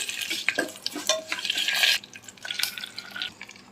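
Short bursts of crackling and sputtering as tempering spices, including dried red chillies, fry in a small amount of hot oil, close up, with intermittent stirring.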